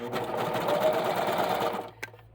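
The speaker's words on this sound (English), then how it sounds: "I'm just going to feed it right into my serger" A Baby Lock Imagine serger stitches the edge of T-shirt knit fabric, running as a steady, close, rapid mechanical whir before stopping abruptly, followed by a brief click.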